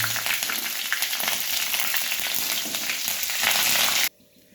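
Whole spices fry in hot oil for a vegetarian khichuri, giving a dense, loud, continuous sizzle that cuts off abruptly near the end.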